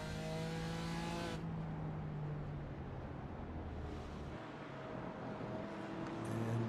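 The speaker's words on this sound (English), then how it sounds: "Dale Sharp, the very distinctive note of the BMW, those very, very low revs" A BMW GT4 race car in a sim racing video game revs with a low, droning engine note and harmonic whine, loud and continuous, with other cars' engines mixed in as the pitch falls and climbs again.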